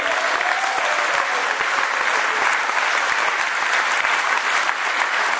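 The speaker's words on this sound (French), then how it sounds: "on peut l'applaudir" Sustained applause from an audience at a French political rally for hunters and farmers, a dense steady wash of many hands clapping, loud and close, with no talk over it.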